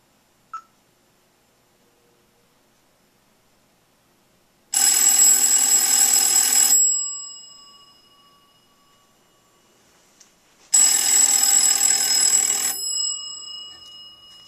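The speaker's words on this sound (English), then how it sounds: "You can see the original bells work." The original bells of a Kellogg wall telephone from around 1902 ring in two loud, rattling bursts of about two seconds each, with a pause between and a faint click before.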